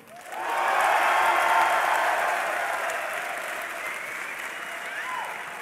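A large esports crowd at the DreamHack Winter 2012 League of Legends grand final, CLG.eu vs Fnatic, erupts into loud cheering and applause that swells quickly, then holds steady and slowly eases while staying strong.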